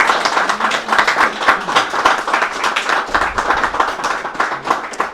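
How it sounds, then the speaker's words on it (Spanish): A church congregation applauds a family after a sermon. The clapping is loud and close, with distinct individual hand claps in an uneven rhythm throughout. "Le damos un aplauso"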